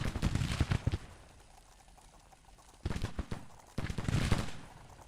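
Musket volley fire in the Civil War strategy game Grand Tactician: bursts of crackling, overlapping gunfire in three uneven waves, with quieter rattling and distant shots between them.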